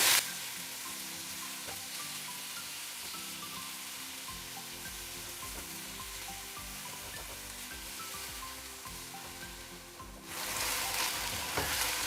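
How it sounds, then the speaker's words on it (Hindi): Steady sizzling of garlic and ginger paste frying in a hot pan, with occasional stirring scrapes, then a louder burst of sizzle near the end. "अच्छे से फ्राई करेंगे, लहसुन अदरक के पेस्ट के साथ भूनेंगे अच्छी तरह"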